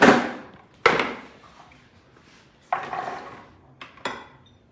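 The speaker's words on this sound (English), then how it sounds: "I just started by finely dicing this." Knife chopping vegetables on a board in a home vegan kitchen, a few separate loud, close knocks spaced unevenly with ringing decay between them, no talk.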